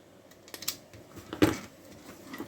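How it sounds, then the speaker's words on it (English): Wire leads being snipped while a smoke detector is taken apart, a few quiet, sharp clicks of cutters, the loudest near the middle, with faint handling noise between. "Cut a few of the leads."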